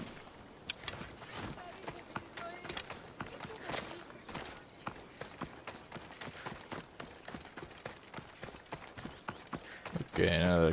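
Horse hooves clip-clop at a steady galloping rhythm in the game Assassin's Creed Odyssey, moderately close, running continuously under faint game ambience, with a louder burst near the end.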